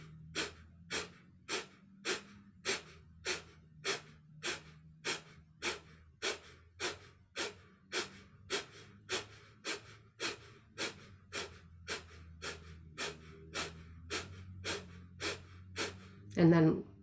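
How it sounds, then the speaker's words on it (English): Rhythmic forceful exhales out the nose during a yoga breathing exercise, about two dozen sharp, evenly spaced puffs, close and clear, ending with a louder breath. "When you're ready, forcefully exhale out the nose."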